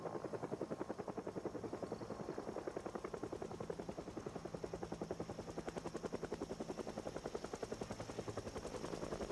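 Helicopter in a modded survival video game, a steady rapid rotor chop thudding continuously and evenly throughout, fairly quiet and with no other sounds over it.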